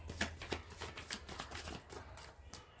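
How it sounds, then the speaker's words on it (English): Tarot cards being shuffled in a series of quick riffling bursts and soft slaps, close up and fairly steady, with no talking. "Just let me have one more shuffle"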